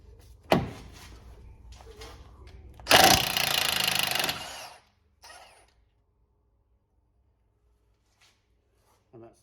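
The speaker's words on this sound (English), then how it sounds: "I'll use an impact gun in order to shock them" An impact gun loosens front brake bolts on a Ford Transit: after a sharp knock comes one loud rattling burst of about a second and a half, then near silence with a few faint clicks.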